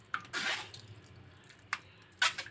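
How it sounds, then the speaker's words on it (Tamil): Water drains and drips from strained ingredients while making milk sarbath, heard as a few short, faint splashy bursts separated by quiet gaps. "தண்ணியே இல்லாத மாதிரி வடிச்சிக்கலாம்."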